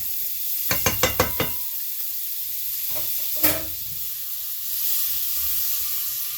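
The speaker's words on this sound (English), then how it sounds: "Throw some butter in this pan here." Butter dropped into a hot pan still holding bacon fat and juices, with a quick series of five knocks and a clank, then a soft steady sizzle that swells slightly toward the end.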